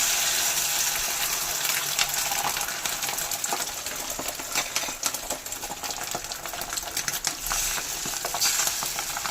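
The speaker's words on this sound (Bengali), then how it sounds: "তেল আর কড়াই দুটি গরম হয়ে গেছে, এবার এই প্যাটানো ডিমটা আমি ঢেলে দেবো এর মধ্যে।" Beaten egg poured into hot oil in a wok sizzles and crackles steadily, a dense continuous frying hiss that stays fairly loud and close with no voices.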